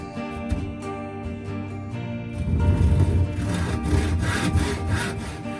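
A saw ripping boards lengthwise in half while fitting out a narrowboat, close and loud, with steady repeated cutting strokes that grow harsher and denser partway through.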